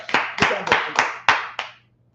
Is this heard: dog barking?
no